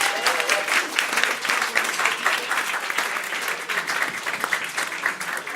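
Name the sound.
audience applause for the performers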